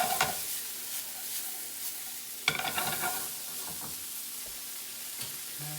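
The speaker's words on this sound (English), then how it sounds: "Quick little saute. We want to get those, I don't want to color the onions, just get them clear" Onions sautéing in a pan over medium-high heat, a soft continuous sizzle with a few stirring scrapes, one sharper clatter partway through.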